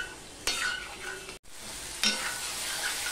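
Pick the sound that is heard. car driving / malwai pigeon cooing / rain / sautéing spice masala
sautéing spice masala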